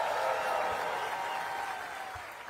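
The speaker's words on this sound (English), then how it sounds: "I expect a big round of applause every time I say that" Applause from a graduating class and their families fills a large tent at a national defense university commencement, a steady dense wash that slowly fades over a couple of seconds.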